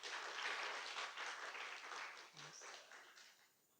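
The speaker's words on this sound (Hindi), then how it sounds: "तालियां कौन बजाएगा?" Clapping from a class of listeners at a spiritual teaching session, a soft, steady patter of many hands at a distance that fades toward the end, with a brief low thump midway.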